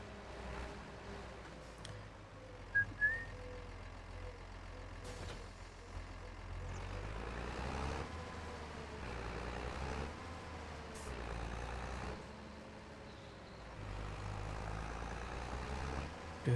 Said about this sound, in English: I take it you can still hear the vehicles, guys.